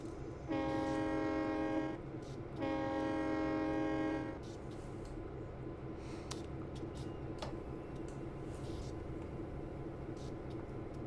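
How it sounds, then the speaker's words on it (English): A locomotive in Train Simulator sounds two long, loud horn blasts, followed by a steady low rumble of the train slowing under braking with faint clicks and ticks, with no speech. "I like the sounds a lot on this locomotive."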